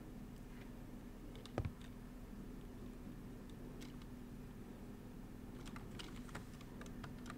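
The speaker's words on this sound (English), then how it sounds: "Why am I typing?" Quiet, steady clicking of typing on a computer keyboard continues throughout at close range, with one sharper tap early on and no one speaking.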